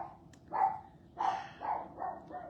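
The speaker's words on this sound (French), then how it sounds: "elle ne peut pas s'empêcher d'aboyer" A dog indoors barks several times in a row, moderately close but muffled, each bark a short yelp spaced about half a second apart, with no talk over it.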